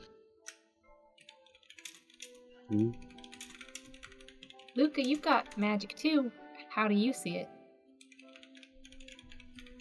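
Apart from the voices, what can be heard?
typing on a computer keyboard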